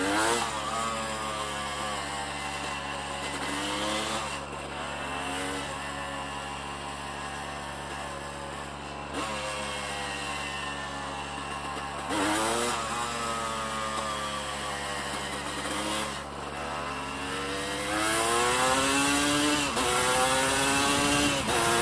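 A Honda CRM 250 AR two-stroke motorcycle engine buzzes loudly up and down through repeated rising revs and gear changes, close and continuous, with no talking.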